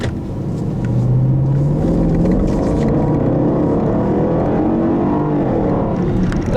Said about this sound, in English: I never thought a Land Rover could have such a sexy exhaust note